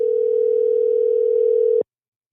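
A steady, unbroken telephone tone heard after dialing a number that is not in service. It holds at one pitch for nearly two seconds, then cuts off abruptly into silence.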